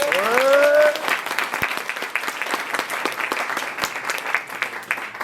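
An audience at an improv theatre show claps loudly and steadily, the applause starting under a short sliding voice-like tone and continuing with scattered sharper claps.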